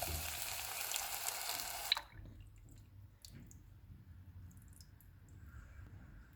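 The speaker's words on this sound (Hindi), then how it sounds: "अब इसमें हम दूध डाल देंगे।" Milk poured into a ghee-roasted almond and poppy seed paste sets off a loud, bright hiss for about two seconds, then the hiss cuts off abruptly, leaving faint bubbling and small clinks.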